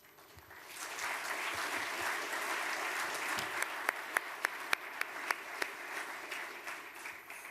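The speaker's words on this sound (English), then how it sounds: "I hope you heard the applause from the room." Applause from a conference room after a presentation, building quickly into a steady round of clapping with several sharp individual claps near the end, recorded fairly quietly as if from a distance.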